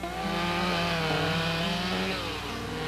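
Stihl chainsaw engine running steadily at high revs, a loud, continuous buzzing whine that holds a constant pitch with no pauses, heard alone.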